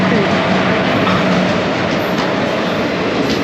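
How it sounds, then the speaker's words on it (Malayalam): Loud, continuous rumble of a train arriving along the tracks, with a steady roar and faint rattling throughout. "ട്രെയിൻ വന്ന്"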